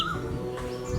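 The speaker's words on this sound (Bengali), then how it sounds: "ভোরবেলা ভেসে আসা নাম না জানা কোনো পাখির ডাক শুনে চিনতে পারি কি" A wild bird calls at dawn in Bangladesh, a brief, clear whistled chirp over a soft steady background, heard on its own without talk.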